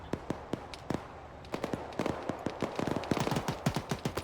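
A BMP armoured vehicle fires shells in the military game Arma 3 during a Cold War scenario. The reports come as a string of sharp cracks, sparse at first, then a rapid irregular volley, moderately distant.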